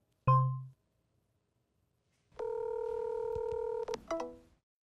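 An AI Pin places a phone call to a sushi restaurant in San Francisco: a brief chime, then a steady electronic dialing tone and a few short tone blips, clean and close.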